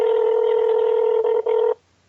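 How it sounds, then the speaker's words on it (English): Steady electronic telephone tone, loud and close, sounding while a phone call waits to connect; it holds evenly, drops out briefly near the end, resumes, then cuts off into silence, with no voices. "It's still ringing."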